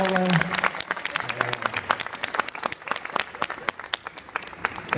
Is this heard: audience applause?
yes